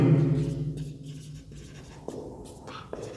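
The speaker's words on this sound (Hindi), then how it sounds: "अब मैं लिखता हूँ" A pen or marker writing out a 3x3 matrix during a Class 12 maths lesson gives faint, scratchy strokes with short gaps and a few sharper taps, over a low hum at the start.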